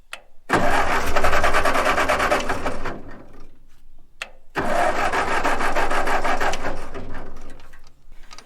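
An old engine cranking in two long bursts, a rapid mechanical churning that stops, pauses, then cranks again and briefly catches before cutting out, close and loud.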